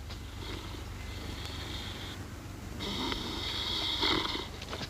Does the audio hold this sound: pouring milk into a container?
no